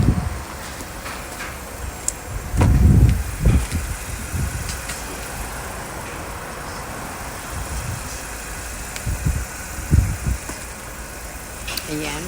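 A car engine idles with a low, steady rumble under people talking, with occasional dull thumps rising above it.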